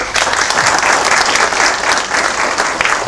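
Audience applause filling the room after a talk on building an analytics team with TensorFlow, steady dense clapping held at an even level for about three seconds with no voices over it.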